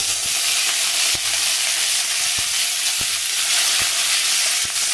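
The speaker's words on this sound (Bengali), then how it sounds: "জিরে আর সর্ষেটা ফোড়ন দিয়ে দিচ্ছি, একটু লাল হোক" Cumin and mustard seeds tempering in hot oil give a loud, steady sizzle with a few crisp pops, close up and with no talking.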